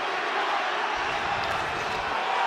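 A sold-out UFC arena crowd keeps up a steady, dense roar and murmur for the whole stretch as Chuck Liddell faces Tito Ortiz, loud and continuous with no single voice standing out.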